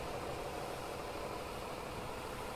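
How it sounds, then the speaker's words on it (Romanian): A tractor engine idles in the Farming Simulator 2015 game on the Sosnovka map, giving a brief, steady, even drone with no change in pitch or level. "Motorul toarce foarte frumos, ca o pisică."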